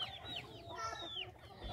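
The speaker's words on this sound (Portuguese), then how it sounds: "galinha assim, solta, né? É, andando por meio do pasto." Free-range chickens roam a rural pasture, clucking and giving short rising calls in overlapping bursts, moderately close over faint outdoor background; no talk.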